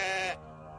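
A single loud, harmonic goat bleat lasting about a third of a second in an animated children's story about two goats meeting on a bridge, followed by a quieter sustained tone.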